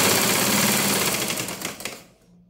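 A sewing machine stitching a blouse runs with a loud, steady close-up whir and rapid mechanical chatter, then slows and stops just before the end.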